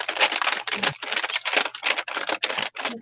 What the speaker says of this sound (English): with the sprays and the baby oil, listen at that, crunchy